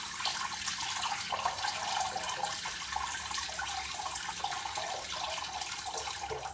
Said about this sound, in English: heat up the razor a little bit under the tap